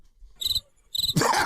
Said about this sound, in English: if I had a button that played the cricket sound, I would play it